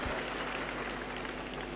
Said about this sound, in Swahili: Pigia Bwana makofi kwa hayo jamani